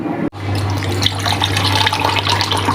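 Water pouring steadily from a tap, a continuous close splashing stream after a brief cut at the start, with no talk over it.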